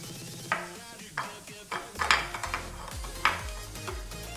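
Chicken liver for a Chettinad dish frying in hot oil as pepper and chilli powder are stirred in, with scraping stirs and clinks of the spoon against the pan over a soft sizzle, close and moderately loud.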